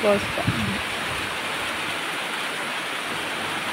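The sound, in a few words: rain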